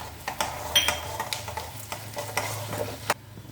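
Peanuts and split urad dal frying in hot oil for a pickle, with a steady close sizzle and repeated scraping stirs of a spoon against the pan, no talking.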